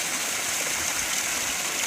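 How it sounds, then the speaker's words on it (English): Small waterfalls in a Pennsylvania creek in the Allegheny National Forest rush in a steady, broad hiss of flowing water, close and constant with no voices. "A few smaller waterfalls."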